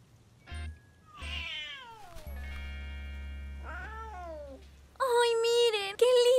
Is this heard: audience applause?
no